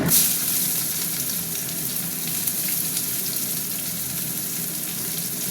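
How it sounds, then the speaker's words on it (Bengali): Steady sizzling of onions frying in hot oil with bay leaves for chicken curry, a close, even hiss with no voices. "তেল গরম হয়ে গেছে পেঁয়াজ দিয়ে দিচ্ছি"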